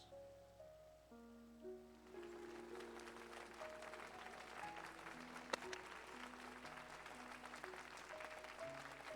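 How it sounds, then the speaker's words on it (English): Applause-like clapping at a knight's investiture ceremony in Final Fantasy XIV Heavensward, a dense steady patter starting after two seconds and continuing under game music with sustained tones. "I don't know if my claps can be heard."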